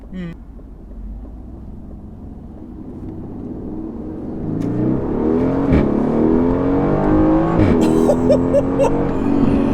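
Mercedes-AMG A35 with automatic gearbox accelerating hard in track mode, a rising engine roar that swells and climbs through gear shifts, heard from inside the car with voices over it.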